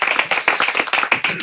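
A small group claps in applause, with quick, close, irregular hand claps filling a brief burst.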